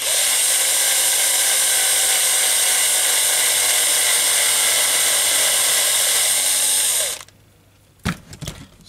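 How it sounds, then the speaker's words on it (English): Small drill working gently into a Matchbox Y-14 Duke of Connaught model gives a loud, steady high-pitched whine for about seven seconds, then stops, followed by a few brief clicks and knocks. "So I'm going to do it quite gently, and as I drill, I'll clear the filings away, or the swarf"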